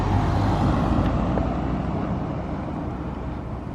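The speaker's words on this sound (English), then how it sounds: "Just let this car go by" A car passing along a road beside a woodland coppice, a broad whooshing rumble that is loudest at first and slowly fades as it moves away, with no voices.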